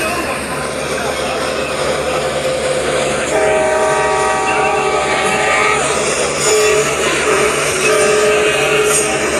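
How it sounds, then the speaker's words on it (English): A train in the Roblox game rumbles past loudly and sounds its horn in several sustained blasts over a steady rolling rail noise. "I saw that train."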